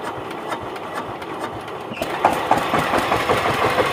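A diesel engine in a wooded area is cranked and catches, its rough mid-range chugging growing louder and denser partway through and then running steadily with knocking pulses.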